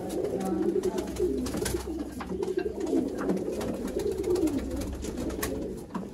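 Ferozpuri pigeons cooing nearby in low, rolling repeated coos over a constant background hum, with no talk.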